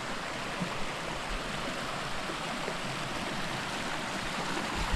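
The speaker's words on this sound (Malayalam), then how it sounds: "അത് പാണയത്ത് പുഴയാണ് കേട്ടോ." Water rushes along a small stream of the Panayam river at Ozhukupara, a steady broadband wash with a constant churning roar, close and unbroken, heard alone without voices.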